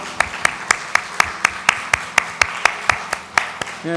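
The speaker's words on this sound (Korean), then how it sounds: "하나님께 영광 박수 올려드리겠습니다." A church congregation claps in a steady rhythm during a Sunday worship service, loud, even beats roughly every quarter second, with faint voices underneath.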